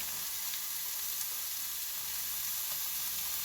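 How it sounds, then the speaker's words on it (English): Meat patties sizzle in a hot skillet, a steady bright hiss with faint pops and crackles, close by and uninterrupted. "I have a skillet hot. So there we got a sizzle."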